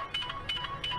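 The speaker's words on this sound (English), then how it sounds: "I got a phone call." A phone rings with an incoming call outdoors on a sunny day in Lakeside, California: three short repeated ringtone bursts, fairly clear and close, with a steady tone underneath.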